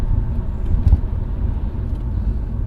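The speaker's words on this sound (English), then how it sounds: "Let's just give it some throttle." A car engine pulls under throttle on a test drive, a steady low rumble of engine and road noise from inside the cabin with no voices.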